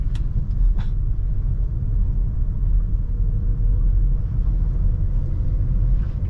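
Car engine rumbling steadily at low pitch while the driver presses the gas and shifts into second gear on a driving lesson, a continuous close drone with a few faint clicks and no talk.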